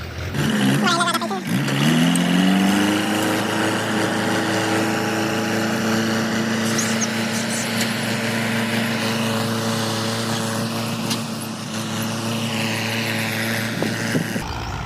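Two tractors ploughing a farm field before the soybean sowing season, a steady loud engine drone with strong low harmonics running throughout, a rising rev at the start, and people talking over it.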